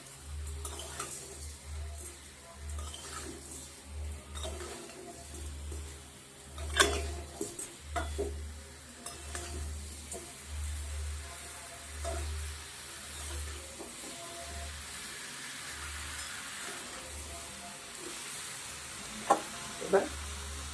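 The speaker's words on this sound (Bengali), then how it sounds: "গুড় দিয়ে ভালো করে আমটাকে মিশিয়ে নেব।" Chopped mango being stirred with jaggery in a pan for a sweet-sour pickle, a long low sizzle and bubbling with repeated scraping stirs and a few sharper clinks, fairly quiet and close.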